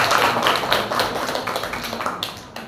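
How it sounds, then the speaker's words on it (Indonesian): Children in a classroom clap together in a dense, steady burst of applause that slowly fades over a few seconds, with no talking. "Anak-anak, beri tepuk tangan yang meriah."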